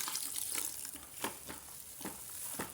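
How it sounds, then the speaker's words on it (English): Water being added to sulfonic acid while mixing up a batch of liquid soap, heard as a close, wet sizzling wash with several sharp sloshing bursts spread through it and nobody speaking. "We are going to add 4 liters of water to the sulfonic acid"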